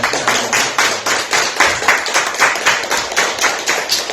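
A church congregation on Christmas Day claps in steady, rhythmic unison beats, loud and close, with no talking over it.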